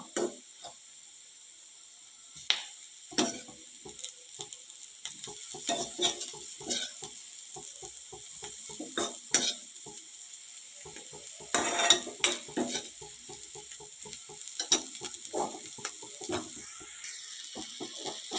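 Cooked clam meat stirred in a frying pan with spices and green chilli, irregular scraping and clacking of a spoon against the pan over a faint background sizzle, close and fairly quiet with pauses between strokes.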